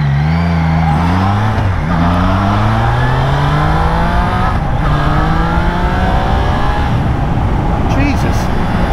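A Triumph Trident motorcycle engine revs up loud and close as the throttle opens, its pitch climbing steadily through the gears over heavy wind rush, with a rider talking over it.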